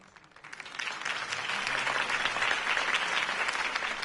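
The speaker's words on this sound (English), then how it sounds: "could have heard that applause" A large crowd in the Batman Telltale video game applauds after a campaign speech, the clapping swelling quickly into a steady, dense ovation that holds to the end.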